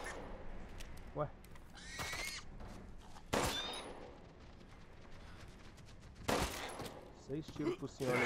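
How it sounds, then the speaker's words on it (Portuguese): Gunfire in the video game Resident Evil Village: several sharp shots ring out at irregular intervals, loud bursts spread over a few seconds against a quieter game backdrop. "Seis tiros pro senhor leitão morrer."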